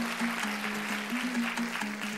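An audience claps at a traditional Kazakh poetry performance, a continuous burst of applause with a sustained melodic tone running beneath it.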